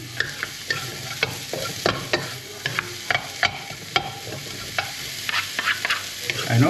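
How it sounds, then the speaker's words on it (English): Garlic stir-fried in a pan for spicy Thai cashew chicken, with a steady close sizzle broken by frequent sharp scrapes and clacks of the spatula stirring against the pan. "Stir up a little bit."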